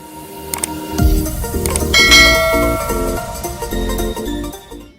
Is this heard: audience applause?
no